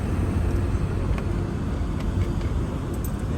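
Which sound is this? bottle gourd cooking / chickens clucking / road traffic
road traffic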